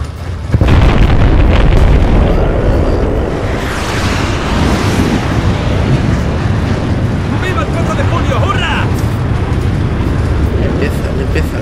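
Loud, continuous booming blasts and rumbling battlefield noise in the Battlefield video game, with a sharp burst near the start and sustained roar throughout, voices faintly mixed in.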